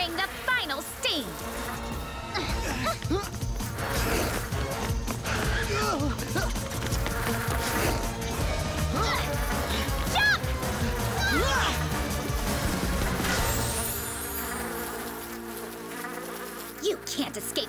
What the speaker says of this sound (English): You can't escape my wasps!